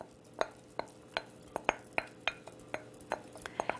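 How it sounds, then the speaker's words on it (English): A spoon stirs corn kernels into a dressing in a bowl, giving a steady run of about a dozen sharp clinks and scrapes against the bowl, close and clear, with no talk. "I'm going to just put my corn in and mix it with the corn."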